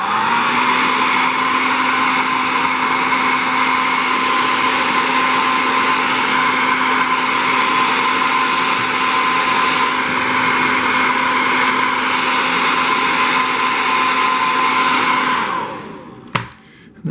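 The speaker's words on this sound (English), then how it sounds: "And back to the hairdryer." A hair dryer blows with a steady, loud whirring hum that continues unbroken, then switches off near the end with a click.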